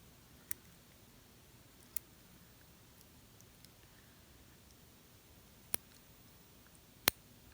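Scissors snipping through a frog during a dissection: a handful of faint, sharp clicks spaced irregularly across a quiet room, the last one the loudest.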